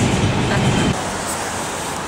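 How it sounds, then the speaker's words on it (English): A New York number 5 express subway train rumbles along, a steady loud roar of the moving car with rail noise, and a voice speaks briefly over it. "Here we are on the number 5 express, headed for 86th Street."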